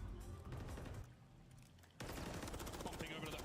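Rattling bursts of gunfire in a Call of Duty match at the Toronto Major esports event, loud rapid volleys broken by a brief quieter lull before firing resumes.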